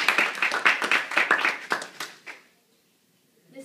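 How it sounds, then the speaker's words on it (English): A small group claps together for about two and a half seconds, a fairly loud, close patter of hands that fades out into silence. "In order for the play to begin, we'll need some loud clapping."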